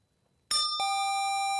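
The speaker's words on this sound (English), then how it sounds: "I think the bell rang." A quiz show buzzer and bell sound to end answer time: a short noisy burst followed by a sustained, bright electronic tone lasting about a second, loud and alone.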